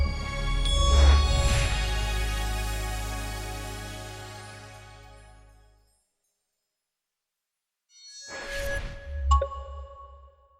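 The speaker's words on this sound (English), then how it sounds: "there's going to be a new one for when you get hard to achieve achievements" A new Xbox rare achievement unlock sound plays alone: a swelling, shimmering chime with a deep low tone that fades out, then after a short silence a second bright rising flourish ends in ringing tones.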